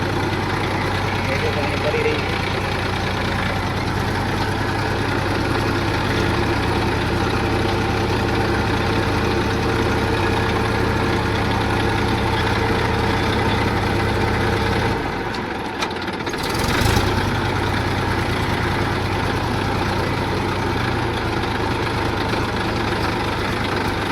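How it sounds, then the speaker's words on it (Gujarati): A heavy tractor engine idles steadily throughout with a low, constant rumble, dipping briefly near the middle before resuming, on a dairy farm heading to the fields. "ખેતરે જઈ રહ્યા છે હવે ટ્રેક્ટર લઈને"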